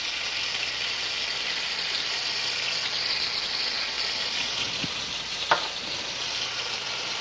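Large tomato chunks fry in a pan over high heat, giving a steady, even sizzle throughout with a couple of brief clicks near the end and no talking.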